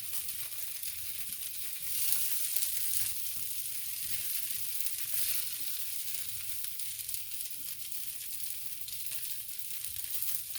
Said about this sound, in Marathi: Shallow fry them.